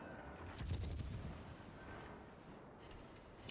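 Warship main guns fire in a World of Warships naval battle, with a HMS Edinburgh cruiser shooting over an island; a distant boom and crackling salvo rise briefly, then fade into quiet background rumble.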